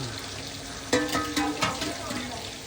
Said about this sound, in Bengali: দেখো এখন বন্ধুরা এটা কিন্তু ফুটছে এখন মাংসটা দাদা ভাই একদম ফুটে উঠেছে